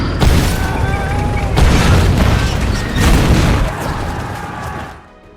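A film battle scene where soldiers blow themselves up beneath tanks: loud, continuous rumbling blasts and booming roar that stays dense for several seconds before fading out.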